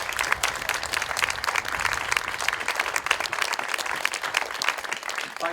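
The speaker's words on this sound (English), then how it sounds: "So a big round of applause for Tony Kane." A round of applause fills an awards ceremony hall, sustained, even clapping from a sizable audience, moderately distant and continuous with no talking over it.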